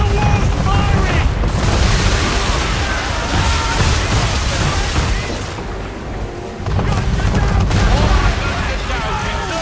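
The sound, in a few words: cannon fire from a man-of-war warship in the Assassin's Creed III video game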